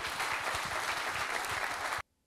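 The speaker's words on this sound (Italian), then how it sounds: "Un lungo applauso ad avvolgere una dichiarazione d'amore alla propria terra" Long, dense applause at a hotel gathering after a mayor's heartfelt speech about their homeland, a full even roar of clapping that cuts off abruptly near the end.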